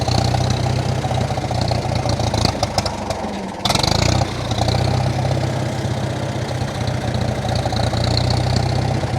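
A 1947 Farmall M tractor engine idles roughly as its choke is worked, a loud, close, low throbbing chug that briefly stumbles and dips before picking back up to a steady uneven idle.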